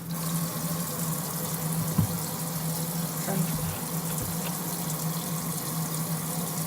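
Water streams steadily from a tap over raw chicken wings being rinsed with vinegar, a continuous close hiss with a low hum underneath and a couple of soft knocks, no talking.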